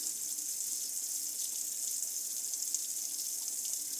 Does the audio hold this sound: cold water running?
yes